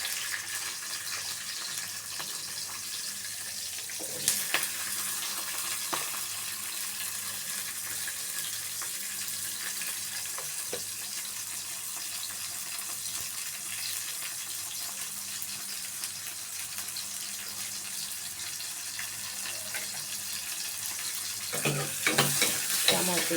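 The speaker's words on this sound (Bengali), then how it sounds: "তেলটা গরম হয়ে গেছে, আমি কেটে রাখা পেঁয়াজগুলো দিয়ে দিচ্ছি।" Chopped onions frying in hot oil, a continuous soft sizzle with occasional utensil clinks and a brief burst of stirring near the end, steady and unaccompanied by talk.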